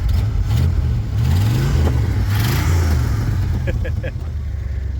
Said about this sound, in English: Give a few revs.